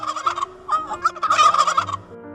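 A turkey gobbling in loud, rapid warbling bursts, several rattling calls in quick succession, close and clear with no talk.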